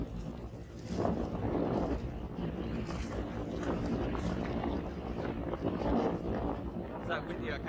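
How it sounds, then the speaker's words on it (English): Strong coastal wind at Cape Peron in Shark Bay, Western Australia, roars steadily across the microphone in heavy gusts, with a voice talking underneath throughout. "It's that windy I can't even keep the camera straight."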